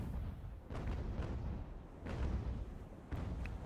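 Carronade cannon fire from a sailing warship in the naval game Ultimate Admiral: Age of Sail, heard as several low, heavy booms spaced about a second apart over a rumbling sea-battle background.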